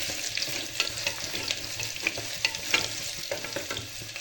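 Ginger, garlic and fennel seeds with chillies and curry leaves sauté in hot oil in a pan, giving a steady close sizzle broken by scattered crackles and light stirring scrapes, with no voices.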